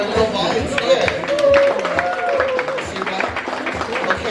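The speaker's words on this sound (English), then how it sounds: "Please, a round of applause for our little volunteer." Audience applause for a small child volunteer at a Samoan cultural show, a dense patter of clapping from the crowd with some voices mixed in, fairly loud and steady.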